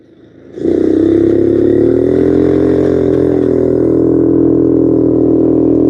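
A scooter engine, just repaired at the carburetor, catches and settles into a loud, steady run close by, holding an even drone with a slight rattle and no voices.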